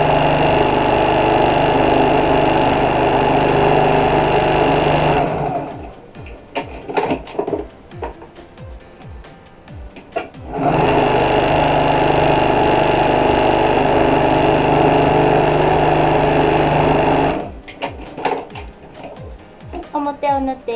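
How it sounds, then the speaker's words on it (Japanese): A sewing machine stitching fabric for a bag remade from a fukuro obi, running in two long, steady mechanical whirring passes separated by pauses filled with fabric handling and clicks. "ミシンをまっすぐ縫うコツはこの針のところを見るのではなくって少しここに目盛りがあると思うんですが"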